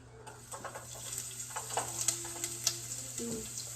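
Onion frying in a pan for noodles gives a steady, faint sizzle with small crackles and a few soft clinks, with no voices.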